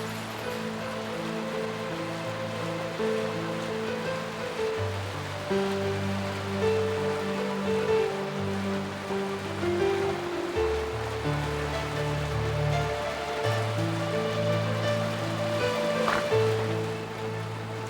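Heavy rain pours down in a steady, dense roar, with a low musical score playing underneath and no one speaking.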